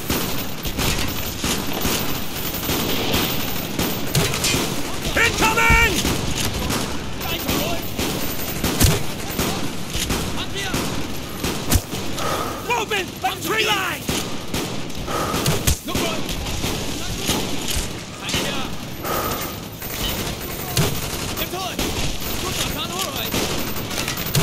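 Gunfire and grenade launcher blasts in the Call of Duty Black Ops Crash Site mission: dense, continuous rattling automatic fire with heavier thumps mixed in, loud and sustained, with shouted voices over the battle.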